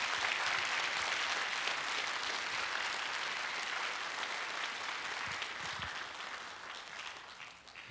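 Applause from the audience after a Korean stage reading of Park Wan-suh's work, a full, sustained round of clapping that holds steady and then tapers off toward the end.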